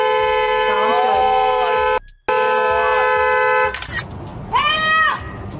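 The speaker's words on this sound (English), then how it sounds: "Honking my horn at you is not illegal. I'm allowed to honk my horn all I want." A car horn blares in long, loud sustained blasts, cutting out briefly and resuming, followed by a shorter rising honk near the end amid background traffic noise.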